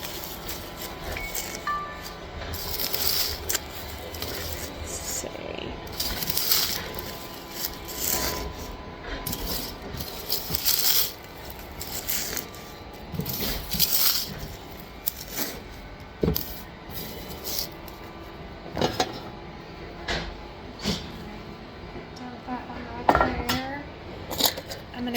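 Freeze-dried marshmallows are crushed and dropped into a jar, giving repeated crisp crunches, rustles and light clinks at irregular intervals, close by, with a voice talking throughout.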